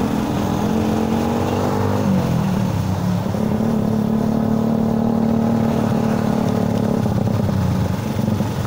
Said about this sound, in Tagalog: Ang ingay ng motor ko, no.